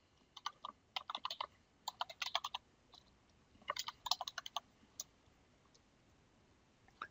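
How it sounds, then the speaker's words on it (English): Computer keyboard typing in quick clustered bursts of light clicks with short pauses between them, plus a few isolated mouse clicks, close and fairly quiet in an otherwise silent room. "Type the desired caption and press OK."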